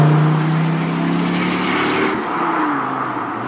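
A 2014 SRT Viper GTS with a huge, extremely powerful engine roars past, a loud sustained drone that shifts pitch as it passes and fades slightly toward the end.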